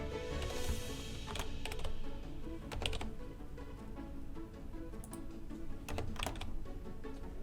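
Quick, quiet clatter of computer keyboard keys while editing text, irregular bursts of tapping spread through the clip against a faint background hum, no speech.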